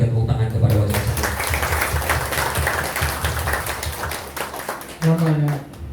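An audience at a Buddhist Dharma talk in Jakarta breaks into applause, steady dense clapping heard under a speaker's voice, with a loud voice cutting in near the end.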